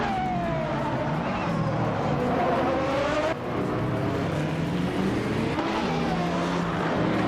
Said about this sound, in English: Our Pink Wolf is driving a 1992 Peugeot 905.